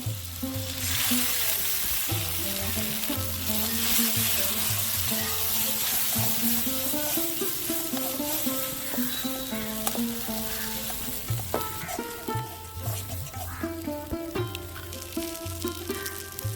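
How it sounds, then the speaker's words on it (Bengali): Ground spinach paste for palak paneer sizzles steadily in a pan with fried nuts, a continuous frying hiss under loud, steady background music throughout. "এর মধ্যে আমি এবার বেটে রাখা পালং শাকটা দিয়ে দেবো"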